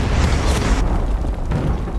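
A loud, sustained explosive roar with deep rumbling body, continuing for about two seconds before cutting off abruptly.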